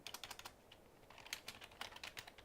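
Quick bursts of keystrokes clatter on a computer keyboard, faint and close, in uneven runs of clicks with short pauses between them and no one speaking.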